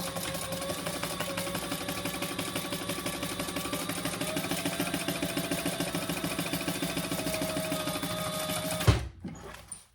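A sewing machine runs steadily, stitching a quarter-inch seam down the side of a sling bag, a close continuous whir that stops abruptly near the end.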